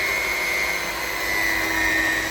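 An electric mixer on its lowest speed whisks chocolate cake batter, a steady motor whine with a sustained tone, moderately loud and continuous without talk.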